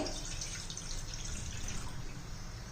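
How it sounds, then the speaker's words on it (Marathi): A bowl of water poured into a hot kadhai while preparing a breakfast dish, a steady soft trickle and splash of liquid that runs evenly and fairly quietly throughout. "कढई गरम करण्यासाठी ठेवलेली आहे त्यामध्ये हे एक वाटी पाणी घ्यायचं आहे"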